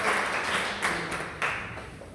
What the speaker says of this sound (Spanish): Un aplauso al Señor, mi hermano. Fuerte este aplauso.